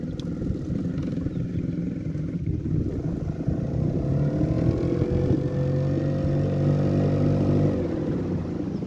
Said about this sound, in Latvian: Vajag bišķi pierast pie motora